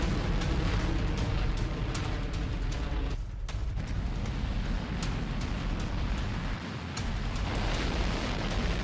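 Minuteman III missile launch: a continuous, loud, roaring rocket-exhaust rumble with a brief dip partway through, no voices present.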